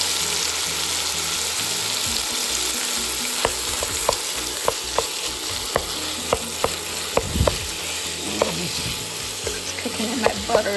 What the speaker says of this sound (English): It's cooking in that butter.